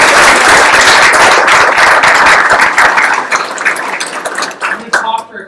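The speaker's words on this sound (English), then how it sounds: "Let's give one more round of applause for everybody." A Demo Day crowd at a developers' bootcamp gives a loud, full round of applause with some cheering that thins out after three seconds into scattered claps and a few voices.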